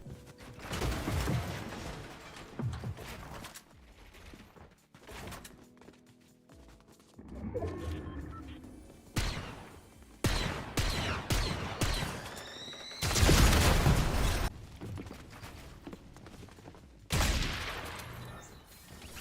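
Shotgun blasts and other gunfire from a first-person shooter video game, with loud bursts of shots at irregular intervals and quieter stretches of game sounds between them.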